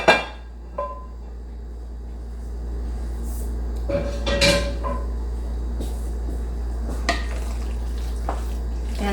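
Tomato pie filling being mixed with cooled onion in a dish gives quiet, scattered clinks and scrapes of a utensil against the bowl, with a few sharper knocks midway over a low steady room hum.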